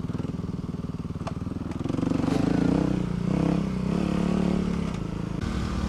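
Dirt bike engine braking on a wooded trail, a steady low engine drone that swells and holds, close and fairly loud, with light clatter over it.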